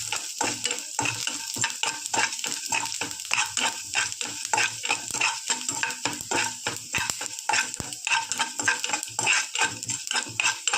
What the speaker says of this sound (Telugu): కొద్దిగా ఆయిల్ వేసి మళ్ళీ కొద్దిగా బ్రౌన్ కలర్ వచ్చేంత వరకు వేయించుకోవాలి